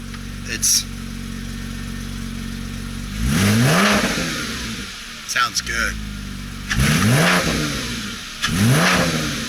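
A Porsche with a newly redone exhaust revs in short bursts, each rising and falling sharply, heard at moderate distance over a low idle, with a brief spoken comment in between.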